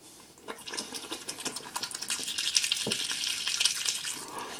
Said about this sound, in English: we're gonna get our brush wet, and we're gonna stick it in our mouth and start brushing.